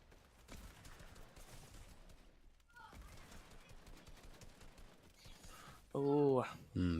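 Gunfire from a hand cannon and a hunting rifle in an esports video game match, sharp bursts scattered through game noise with a couple of loud cracks near the end, over background chatter.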